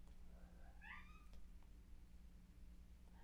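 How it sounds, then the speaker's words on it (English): Two house cats fighting in a kitchen, with distinct meows and a rising yowl in quick succession, heard faintly at a distance over a steady low hum, with no talking. "I don't know if you can hear my cats, but they're fighting in the kitchen."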